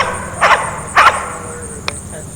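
A search and rescue dog gives two sharp barks close together at moderate distance, followed by a short click, over a faint background hum.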